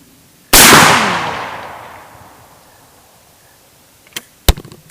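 A single-barrel 12 gauge shotgun fires one loud, close blast with a long rolling echo that fades over about two seconds, followed later by a few sharp clicks and knocks of handling.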